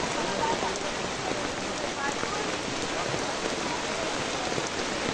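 Cold rain pours down at Mat-e resort in Naawan, a constant, dense hiss of drops pattering on surfaces, with faint voices mixed into the steady downpour.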